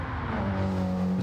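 A four-wheel-drive saloon car in Gran Turismo 7 skids through a hairpin on a time trial, with a loud continuous engine drone and tire squeal rising into a sustained tone, no talking.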